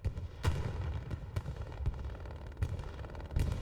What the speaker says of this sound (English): That's a bombing run. That is an ROFS bombing run.